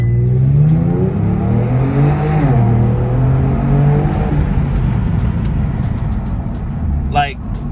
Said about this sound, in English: I'm gonna floor the brake and floor the gas.